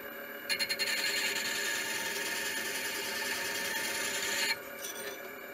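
A scraper blade is sharpened with cutting oil for scraping a Kingway HKA36, a close, steady abrasive rubbing that runs several seconds after a few quick strokes, then stops and gives way to light scraping, with no talk.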